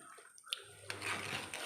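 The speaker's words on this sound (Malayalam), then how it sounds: "ഇച്ചിരി പുളിവെള്ളവും കൂടെ ഒഴിച്ചു കൊടുക്കാവേ." Tamarind water pours into ginger curry (inji curry) for a sadhya meal, a soft liquid splash and trickle starting partway through and continuing steadily to the end, fairly quiet and close, with no talking.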